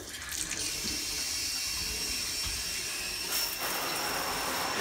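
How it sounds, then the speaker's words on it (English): Cold water pours steadily from a tap into a tub, a continuous hiss and splash filling the whole stretch at close range with no voices. "I run some cold water."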